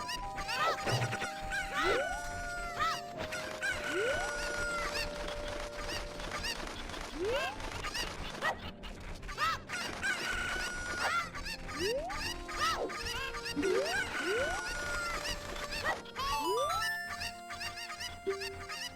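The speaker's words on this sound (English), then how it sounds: "It's like really hard to get the Cuckoos to run in the way I want them to." Cuckoo chickens clucking and squawking in Zelda: Ocarina of Time, repeated short cartoonish clucks and rising squawks over steady game music, with a faint voice talking now and then.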